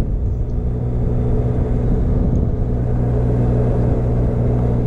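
A Benelli TRK 502 X motorcycle fitted with a 15-tooth front sprocket, cruising on a high-speed road, with a loud, steady engine drone and wind rumble that stays constant throughout, with no talking.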